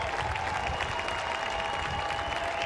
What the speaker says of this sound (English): He gets a nice hand from the crowd.